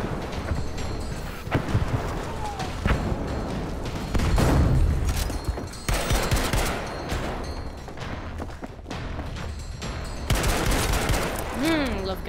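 Video game gunfire in a fiery shooter match, with dense bursts of automatic fire and booming blasts rolling almost continuously, loud and close, while a player talks and cheers over the action.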